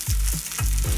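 Spam slices sizzling crispy in a frying pan, a steady loud fry with bursts of crackle and a few stirring or flipping scrapes, no talk.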